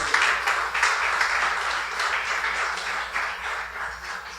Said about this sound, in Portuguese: Você pode aplaudir esse Deus maravilhoso.